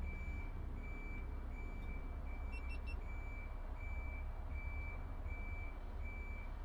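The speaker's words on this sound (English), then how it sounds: "Beep, beep, beep, beep. Somebody's beeping at" A truck's reversing alarm beeps steadily in an even, repeating rhythm over a constant low engine rumble, the tones clear and moderately close.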